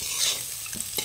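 Curry with lentil dumplings sautés in a pan, a soft steady sizzle with a couple of light stirring scrapes, brief and fairly quiet.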